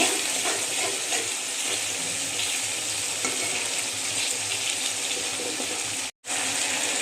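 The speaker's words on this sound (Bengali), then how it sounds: "আদা আর রসুন বাটা। ভালো করে একটু ভেজে নেব।" Ginger and garlic paste frying in a pan, a steady, close, fairly loud sizzle that holds evenly throughout, broken once by a brief silence near the end.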